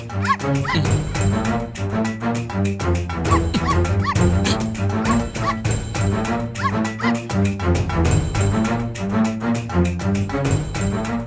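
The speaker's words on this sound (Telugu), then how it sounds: "అక్కడేదో కుక్క పిల్ల సౌండ్ వస్తుంది." A puppy whimpers and yips in rapid, repeated bursts, with high whiny cries and short barks going on almost without pause, close and fairly loud.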